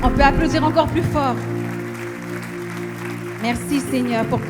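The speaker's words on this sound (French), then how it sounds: "On peut applaudir encore plus fort." A church congregation claps along during a French worship song, the applause a broad wash beneath sustained keyboard chords and a singing voice, loudest through the middle of the passage.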